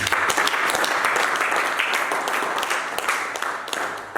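A church congregation at a worship service breaks into loud, sustained applause and clapping, a dense continuous roar of many hands that fades slightly toward the end.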